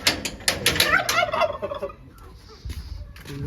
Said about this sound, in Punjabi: ਵਾਈਟ ਟਰਕੀ ਹੈ